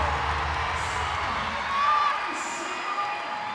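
A Super Netball stadium crowd cheers for the West Coast Fever after a record is announced, a broad distant roar that swells briefly, heard under a commentator's voice.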